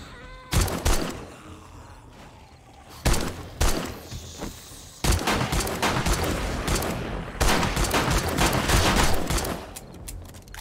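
Shotgun fire during a zombie horde night in 7 Days to Die, several loud booming blasts spaced a second or two apart, some in quick pairs, over a steady roar of game noise.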